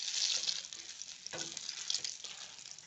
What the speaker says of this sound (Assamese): আৰু এতিয়া এই কণী দুটা মই অকণমান এনেকৈ ফ্ৰাই কৰিছোঁ